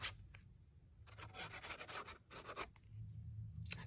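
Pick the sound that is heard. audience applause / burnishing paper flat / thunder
burnishing paper flat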